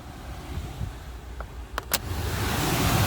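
A new replacement blower motor in a Toyota Previa runs steadily at fan speed 4, a broad airy whoosh of moving air that holds steady and swells slightly, with a couple of brief clicks partway through.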